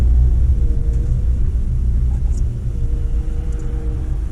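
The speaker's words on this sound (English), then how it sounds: "I'm sure that exhaust leak is reverberating through here pretty good." A 1996 Ford Ranger with an exhaust leak drives along, its low, steady engine rumble and road drone heard from inside the cab, fairly loud and continuous with no talk.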